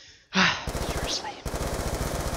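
Automatic weapon fire in Black Ops II, rapid regular bursts of gunshots close and loud after a brief gasp-like sound, firing continuing in two stretches.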